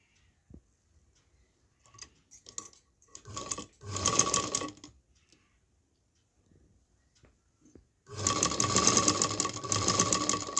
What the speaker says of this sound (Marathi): अशीच शिलाई मारत जायचं आहे